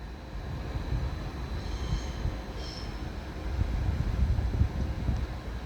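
An ÖBB Flirt electric multiple unit arriving from the Allgäu into Munich Hauptbahnhof, with a low rumbling roll of wheels on rails and faint brief squeals, steady and moderately distant.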